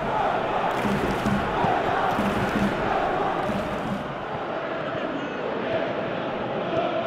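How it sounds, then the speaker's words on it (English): A large video-game football stadium crowd roars and murmurs continuously, a dense wash of cheering voices with swells of noise, heard from a distance like stadium atmosphere. "you could feel and hear how the crowd are reacting to all of this"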